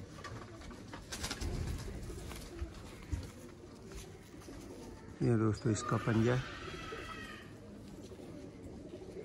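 Teddy pigeons in a breeder's loft give a short, loud burst of throaty cooing partway through, with someone talking before it.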